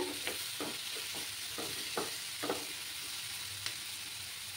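Small fish with spring onion and potato sautéing in a pan for a Bengali chorchori, a soft steady sizzle with light scraping stir strokes at a regular pace, close and fairly quiet, with no talking.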